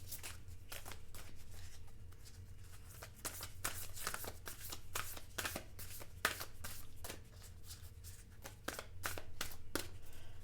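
Tarot cards being shuffled close up in repeated quick riffles and snaps, with short pauses between bursts.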